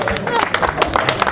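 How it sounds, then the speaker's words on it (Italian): A crowd at a UISP mountain bike cross-country race in San Salvo applauds a young winner with brisk, uneven clapping mixed with crowd chatter and voices close by. "Oh, un applauso."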